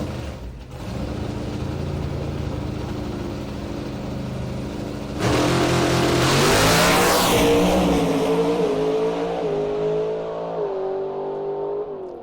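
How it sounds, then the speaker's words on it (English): A Mountain Motor Pro Stock drag car with an 833 cubic inch engine roars through a run at a drag strip, idling loud and rough before a sudden full-throttle blast with rising revs and gear changes, staying loud and close throughout. "in a Mountain Motor Pro Stock 833 cubic inches of badassery. Here we go."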